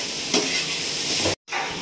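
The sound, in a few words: soybean chunks frying with salt and turmeric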